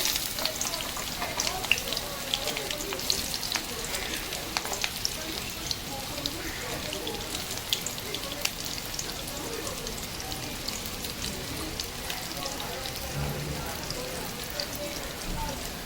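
Chopped onions and green chilies frying in a pan for a fish charchori, with a steady close sizzle and faint stirring scrapes, continuous throughout without talk.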